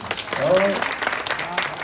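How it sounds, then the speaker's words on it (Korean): A short burst of applause from a crowd, with a voice speaking over the clapping, at a Korean book report award ceremony. "어머니한테도 박수 좀 부탁드립니다"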